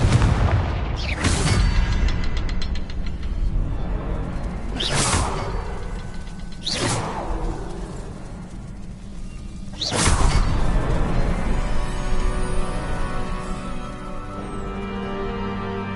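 Confringo spell blasts in Hogwarts Legacy burst out as four loud, sharp explosive hits spread over about ten seconds, each trailing into a mechanical rumble and faint whooshing.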